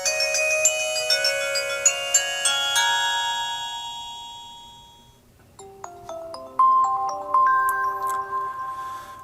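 An LG mobile phone plays its startup chime, a bright melodic sequence of bell-like tones that fades out, then a second, softer run of plucky notes rising in pitch, heard alone and close.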